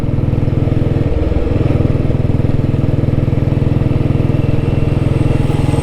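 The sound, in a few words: Royal Enfield Bullet motorcycle riding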